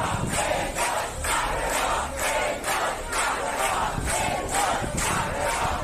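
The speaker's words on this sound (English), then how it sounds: "huge crowds chanted Elnaz Glamaran, translating to Elnaz Hero" Huge crowds in Tehran chanting "Elnaz Hero" for a climber, a loud, dense roar of many voices rising and falling in a regular rhythmic chant, filling the whole span.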